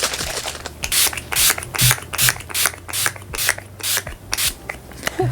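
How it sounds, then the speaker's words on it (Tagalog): Urban Decay All Nighter Setting Spray misted onto a face, about a dozen quick hissing pump bursts in a steady rhythm, close and clear, with no talking. "I'm just going to set my entire face with the Urban Decay All Nighter Setting Spray."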